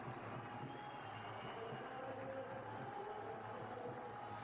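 Home crowd at a Sri Lankan cricket match applauding Jayawardene's milestone: steady, distant, faint applause and crowd noise spread evenly across the few seconds.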